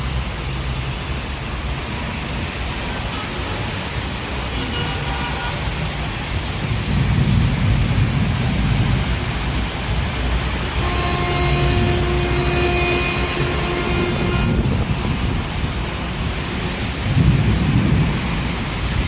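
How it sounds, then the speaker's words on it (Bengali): Heavy monsoon-style downpour over Chittagong city, a steady loud wash of rain with deep rolling thunder swelling twice, no voices. "দেখা যাচ্ছে মুষলধারে বৃষ্টি।"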